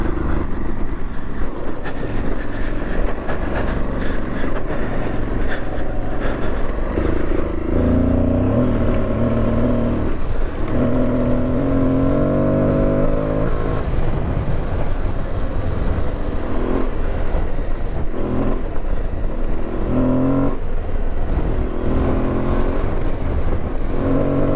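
Aprilia Tuareg 660 adventure motorcycle ridden hard off-road, its engine droning loudly and continuously, rising and falling in pitch through revs and gear changes with wind and terrain noise.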